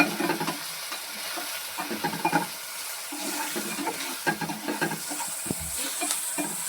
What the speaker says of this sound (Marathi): आता याला मस्तपैकी चांगलं असं चमच्याने मस्त हलवून घ्यायचं आहे.